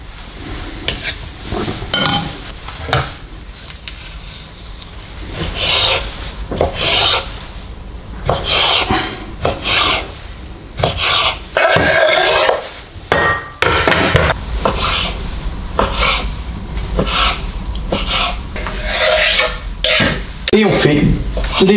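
Roasted bell peppers are peeled and sliced into strips for olive-oil preserves, giving rhythmic rasping and rubbing scrapes of a knife against a board, with a voice talking intermittently over the work.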